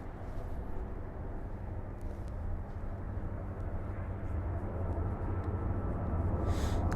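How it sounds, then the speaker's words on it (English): Large jet airplane passing overhead, a steady broad low roar holding throughout at moderate distance, with no voices over it. "Well, that's a big old jet."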